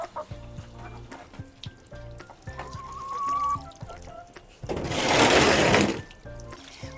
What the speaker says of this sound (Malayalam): വെള്ളം ഒഴിച്ച് കഴുകണം എല്ലാം കഴുകി വിടുക